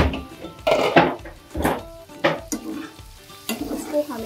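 Vegetables for shahi paneer stirred and frying in a pan, with repeated scraping strokes of a utensil over a steady sizzle, close and fairly loud.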